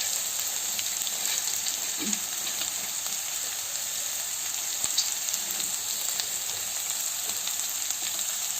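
Onions and carrots frying in a pan for homemade noodles, a steady close hiss of sizzling oil holding evenly throughout, with a faint stir or clink now and then and no talking.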